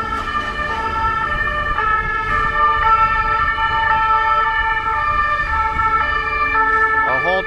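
Sirens from a long convoy of about 30 ambulances in Paris sound loudly and continuously nearby, layered tones overlapping with a rhythmic yelp and traffic rumble beneath.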